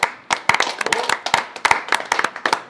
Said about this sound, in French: on peut applaudir Benoît Rastier, merci.